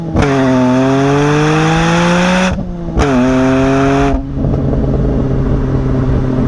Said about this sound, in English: pure E46 M3 exhaust note